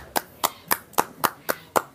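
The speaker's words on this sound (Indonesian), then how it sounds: "Tepuk tangan, Saudara." A single person claps slowly and evenly, seven sharp claps about a quarter second apart, close and clear with no talking.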